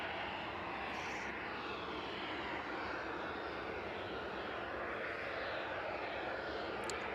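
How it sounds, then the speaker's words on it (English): A steady, loud roar from aircraft engines at East Midlands Airport at night, where a Boeing 767 cargo jet is working, holding an even, continuous rumble with no break. "So we'll stick with that 767 for the next few minutes while we watch that one being unloaded."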